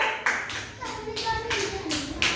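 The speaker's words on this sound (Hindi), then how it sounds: "very good, Tali बजाइए" Children clap in a Hindi-medium primary school classroom, a short burst of hand claps at the start and end, with a teacher's voice speaking over the middle.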